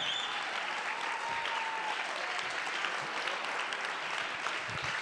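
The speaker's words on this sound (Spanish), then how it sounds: "Vamos, aplaude con los codos si puede." Church congregation applauding during a Spanish-language sermon, a dense, steady wash of clapping that runs the whole stretch at moderate level, with a faint tonal hum in the background.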